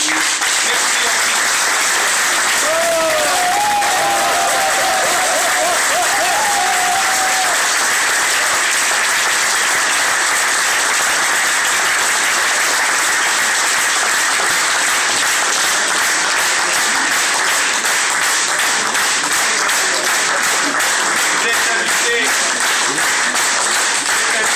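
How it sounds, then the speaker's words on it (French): A crowd applauds loudly and continuously, a dense wash of clapping that stays strong from start to finish, with a faint voice briefly audible partway through. "vous pouvez vous applaudir"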